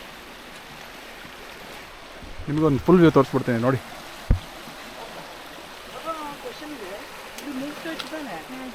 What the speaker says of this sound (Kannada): ಸೊ ನಮ್ಮ ಹೇಮಾವತಿ ನದಿ ಎಷ್ಟು ಚೆನ್ನಾಗಿ ಹರಿತಾ ಇದೆ ನೋಡಿ.